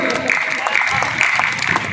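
An outdoor evening devotional event for Ram Lalla on a municipal ground: the crowd claps in a dense, continuous burst for a couple of seconds, with voices mixed in.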